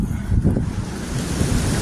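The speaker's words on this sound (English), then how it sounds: "It's getting windy like it was the other day." Strong wind roars and buffets the microphone with a low, rumbling blast, steady and loud across the whole stretch, with no voices.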